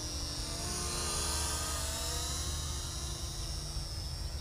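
A small Helifar H1 Wifi FPV toy drone flies close by, its propellers giving a steady high-pitched whine and buzz that holds level and continuous throughout, alone with no talk.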